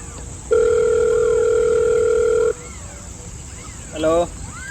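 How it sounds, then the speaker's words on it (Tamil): A steady telephone dial tone sounds loudly for about two seconds while a call is placed, then stops, followed by a brief burst of rising ringback or keypad-like tones near the end over faint background noise. "ஃபோன் பண்ணி பார்க்கலாம்."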